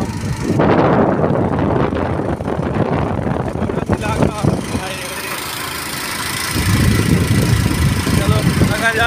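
A motorcycle is ridden on a trip out to a farm: a steady mid-pitched engine drone mixed with heavy wind buffeting, easing briefly in the middle before picking back up.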